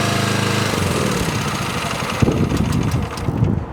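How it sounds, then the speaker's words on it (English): A Marathon mastic mixer's engine runs with a steady low drone that breaks into uneven sputtering knocks as it is shut off, then winds down toward quiet. "I will turn off my engine"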